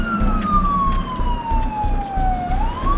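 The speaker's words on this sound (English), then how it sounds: "The siren scared Frank away." A loud ambulance siren wails close by, its pitch sweeping slowly down and then rising again over a steady engine rumble.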